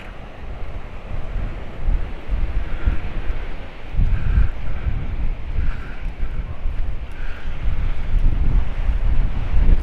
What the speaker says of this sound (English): It's a bit breezy, so I'll have to make sure I keep my hat on.